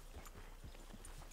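Hooves of an Appaloosa horse clip-clopping in the Red Dead Redemption 2 game, several soft, evenly spaced thuds at a relaxed walking pace, faint and low under quiet background ambience.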